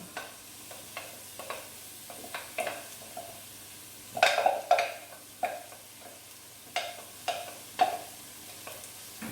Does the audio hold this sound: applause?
no